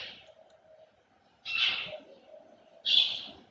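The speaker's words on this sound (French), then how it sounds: "Vous attendez le bruit des oiseaux" Birds call outdoors in a remote area, three short breathy whistled notes spaced about a second and a half apart over a faint steady background, moderately close.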